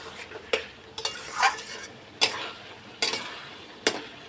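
Meat being sautéed with a splash of water in a pan, a utensil scraping through it in several sharp strokes over a soft, steady sizzle close by.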